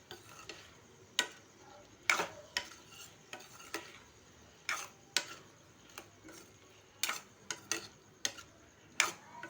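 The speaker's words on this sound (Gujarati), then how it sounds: "હવે બધું મિક્સ કરી દઈશું આપણે ચમચા વડે" A spoon stirs a potato and eggplant curry in a pot, giving irregular, fairly quiet clinks and taps against the metal over a soft background hiss.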